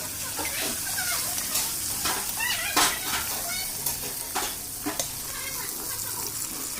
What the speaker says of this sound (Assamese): আনফালে মই কেৰাহীত মিঠাতেল ঢালি দিছোঁ আৰু লগতে কণীখিনি মই ইয়াত দি দিম